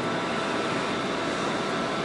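A steady, dense broadband roar of helicopters flying nearby fills the air near a rooftop, loud and unbroken with no talk.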